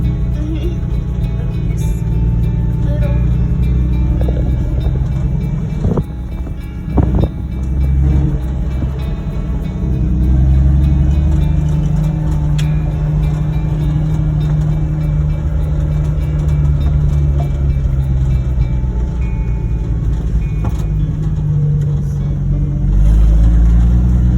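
A 1972 Ford F100 pickup with a 3.9-litre 240 cubic-inch inline-six engine pulls away and accelerates, its steady loud drone rising and holding in pitch, with a few bumps and rattles partway through.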